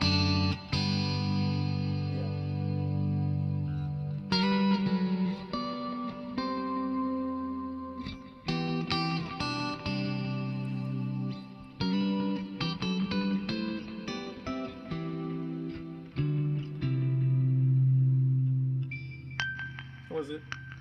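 A shimmery clean electric guitar tone from an Axe-Fx 3 processor: played chords and picked notes ring with lush chorus, echo and reverb tails, filling the space loudly and continuously without any talking.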